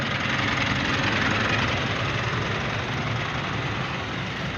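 A car engine suffering from low power runs in a steady, loud, unbroken drone, close by and with no other sounds over it.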